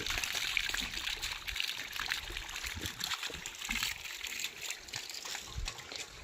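A thin stream of water trickles and splashes steadily from a one-inch delivery pipe on a 650-foot borewell with low flow, heard close and fairly soft, with no voices.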